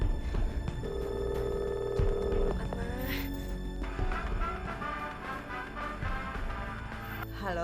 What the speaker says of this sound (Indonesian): Sinta, ada apa kamu malam-malam telepon?